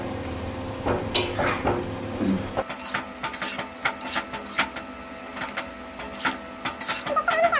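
Thukpa noodles, vegetables and chicken being stirred together in a pot, with scraping and clinking of a utensil against the metal in irregular strokes over a steady background hum.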